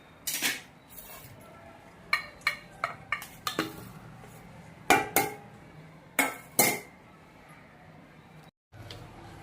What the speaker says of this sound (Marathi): आता आपण ही अळूची वडी कापून घेऊया